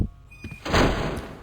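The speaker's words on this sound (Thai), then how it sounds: "อ้าวประตูปิด แล้ว" A door shutting in a Thai horror video game, a short thudding close with a sliding scrape after a brief quiet moment, heard alone.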